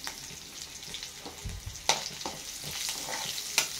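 Garlic frying in oil for a ridge gourd chutney, a close crackling sizzle with sharp pops and a few thumps of stirring, no voices.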